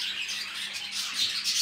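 Lovebirds in a room chirping and squawking continuously, a dense chatter of overlapping high calls close by, with no talking.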